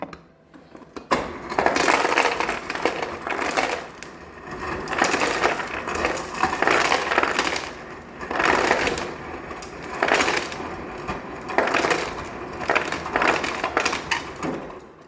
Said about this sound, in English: I'll grab some ice for you so you can have that